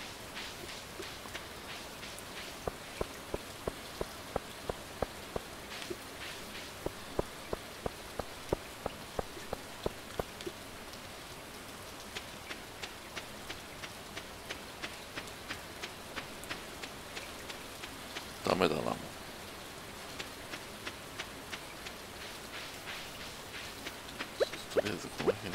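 Steady rain falls in the video game Stardew Valley, a continuous soft hiss of drops, with regular light tapping footsteps throughout and a brief louder burst of rustling near the end.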